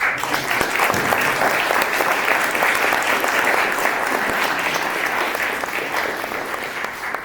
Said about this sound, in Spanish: pidiendo a ustedes un gran aplauso a los miembros del panel